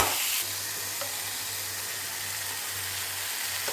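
Two medium tomatoes and curry leaves frying in a pan, giving a loud, steady sizzle and hiss close up that runs unbroken with no voices.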